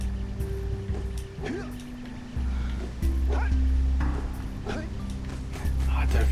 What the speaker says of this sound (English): Let's try and get past that dog.